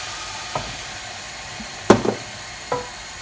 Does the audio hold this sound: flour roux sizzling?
yes